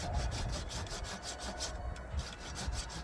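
Rapid back-and-forth strokes of a pruning saw cut through peach tree branches, a steady rhythmic rasping about six strokes per second, close and fairly faint, with no talking.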